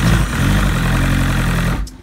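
A 2001 Evinrude 115hp outboard motor under starter and Bendix repair runs with a steady, loud low-frequency engine drone that holds for nearly two seconds before cutting off abruptly near the end.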